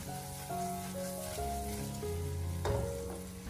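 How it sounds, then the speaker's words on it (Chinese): Prawns and raw minced garlic stir-fry in a wok, a steady close sizzle with short scraping tosses of the spatula running throughout, with no talk. "我们将生蒜末放进来以后，接着再给它继续的翻炒1分钟左右"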